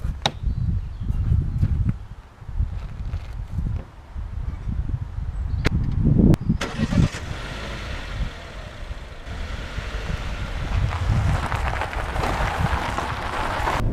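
A 2019 MG car engine turns over and starts, then settles into a low running rumble as it pulls away, with rustling and handling noises close by and no talking.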